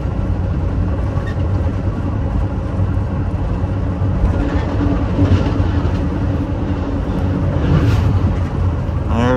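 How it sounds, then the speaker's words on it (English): An inbound Metra commuter train passes a former Chicago, Burlington and Quincy station in Illinois, a steady close rumble and rail roar running for the whole stretch with no break. "goes an inbound Metra"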